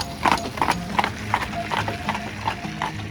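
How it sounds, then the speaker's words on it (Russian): Horses' hooves clip-clop steadily on a mountain road on the way to Morskie Oko lake in Poland, a regular series of hard knocks against a constant outdoor rumble. "Ленивцы, которые не хотят идти вниз, поехали на лошадках."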